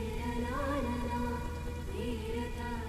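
Steady rain falls in a dense, even hiss, with sustained tonal hums running underneath.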